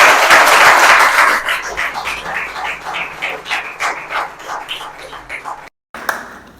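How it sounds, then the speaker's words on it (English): An audience at a book launch applauds, dense at first and thinning into scattered individual claps before a brief dropout, with a faint voice near the end. "please round of applause for Claudia Tomlinson and Professor Gus"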